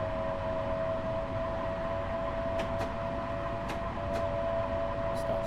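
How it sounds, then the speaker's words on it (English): A commuter train in Train Sim World 2 on the New York Grand Central to North White Plains line rolls along with a steady, fairly quiet drone, a thin tone and a few faint clicks. "Does that sound like a proper train or what?"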